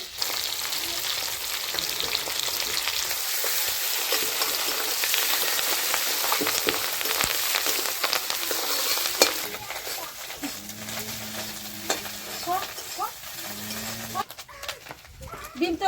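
Fish roe fries in a pan with a dense, steady crackling sizzle close by, easing toward the end, while someone speaks over it.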